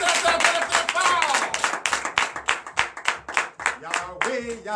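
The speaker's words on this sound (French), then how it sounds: "je vous demande d'applaudir très fort, très fort" Church congregation at a Sunday service in Comè, Benin, clapping hard in a steady rhythmic beat, loud and close, with voices rising over the claps.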